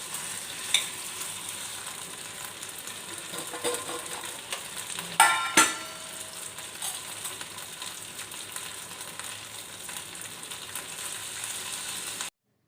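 Small diced potato pieces fry in a pan with a steady, moderate sizzle and crackle, plus a few louder clatters of stirring near the middle; no one speaks.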